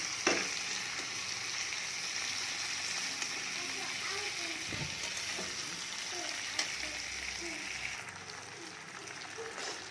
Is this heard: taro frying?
yes